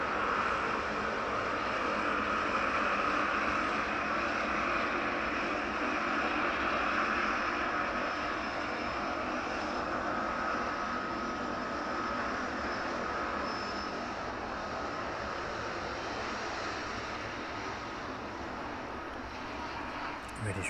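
An aircraft arriving from Cincinnati rolls along at East Midlands Airport in the evening, its engines a sustained whine and roar with a steady high tonal hum that slowly fades toward the end.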